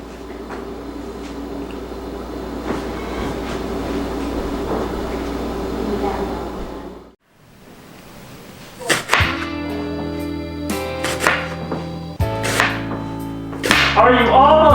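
Onions being chopped for caramelizing: a run of sharp knife thunks on a board, some quick and clustered, with steady background noise, a brief near-silent gap, then louder kitchen clatter and bright clinks near the end.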